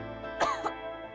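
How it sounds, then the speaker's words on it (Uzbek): A single dry cough rings out in a Gerbion cough medicine television advert, one short harsh burst followed by a smaller catch, alone over a quiet musical bed. "Quruq yo'tal bezovta qilyaptimi?"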